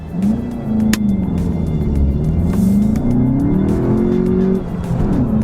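A VW Jetta GLI accelerates hard, its engine note climbing steadily in pitch for about five seconds, loud and close, with a slight dip and renewed pull near the end and no talking.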